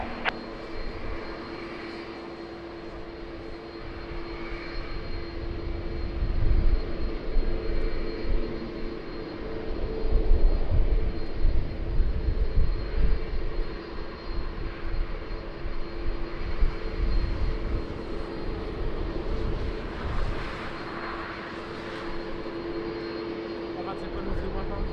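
An aircraft takes off at Lisbon Airport in wind and rain, a broad jet engine roar building and swelling over the runway, with radio chatter from air traffic control heard over it.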